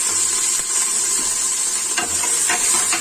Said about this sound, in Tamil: இஞ்சி பூண்டு விழுதையும் சேர்த்து நல்லா கலந்து விடுங்க